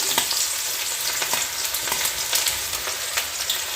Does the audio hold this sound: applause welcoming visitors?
no